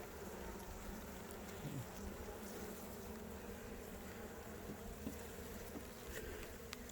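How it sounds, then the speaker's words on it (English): Honeybees buzzing around an open, smoked hive, a faint steady drone of many wings close by, alone with no talk. "listen to them buzz."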